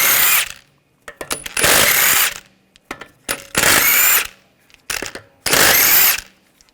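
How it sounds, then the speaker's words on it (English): Power tool with a 17mm socket removing the wheel lug bolts on a 2007-2013 BMW X5 3.0L: three loud, close bursts of impact-gun rattle, each followed by short clicks and clatter of the socket and bolts. "use a 17mm socket, take the lug bolts out."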